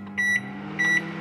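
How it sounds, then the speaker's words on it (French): A microwave oven hums steadily with a low drone while two short, bright electronic beeps sound close by, one near the start and another near the end. "Tout est dans le micro-ondes"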